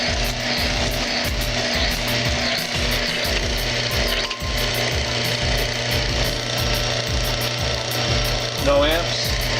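Lubricity test machine grinding under heavy applied load while testing Mobil SHC 634 synthetic circulating and gear oil, a steady loud mechanical whir and rubbing drone with a constant hum, running continuously; a voice talks over it.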